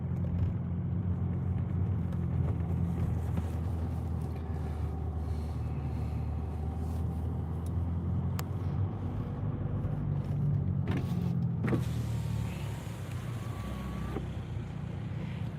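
Diesel vehicle cruising through the Gatlinburg area of the Smoky Mountains, a steady low engine rumble and road noise filling the cabin without pause, with a few faint knocks and clicks over it.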